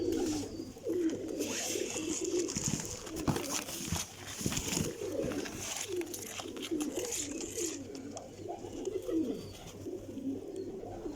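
Golden pigeons in a loft in Jhelum keep up a dense, continuous cooing, overlapping low throaty calls close by with occasional rustles and wing sounds, lasting steadily throughout.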